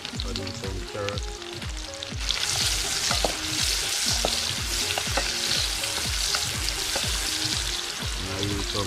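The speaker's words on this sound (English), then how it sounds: "Oil hot. Add in some carrot." Carrots frying in hot oil at a riverside outdoor cooking spot. A steady loud sizzle rises sharply as they hit the pan and continues with stirring, with no talking.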